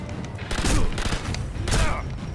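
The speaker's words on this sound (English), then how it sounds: "shot his kneecaps up" A sniper rifle shot in Sniper Elite V2: a dense, heavy crack with a rolling echo, followed a second later by another loud burst over a busy battle din.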